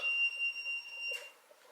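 Repeated electronic beeps from an alarm as the power goes off in a farmhouse, a thin high tone pulsing steadily at moderate volume, with a short rustle near the end.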